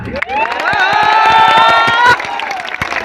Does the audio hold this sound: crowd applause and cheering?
yes